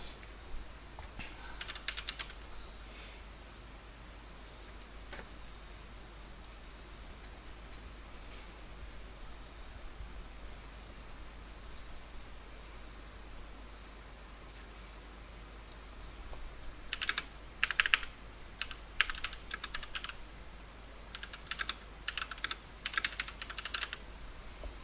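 Keyboard typing during a Final Fantasy Trading Card Game team match, faint steady clatter that turns into a denser burst of quick keystrokes near the end, with no talking.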